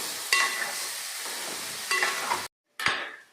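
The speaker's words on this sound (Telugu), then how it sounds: "దీన్ని కూడా మనం ఒక 5 నిమిషాలు బాగా వేయిద్దామండి." Brinjals frying in a pan with tomato paste for gutti vankaya curry, a steady close sizzle with scraping stirs, broken by a short silent gap before the frying resumes.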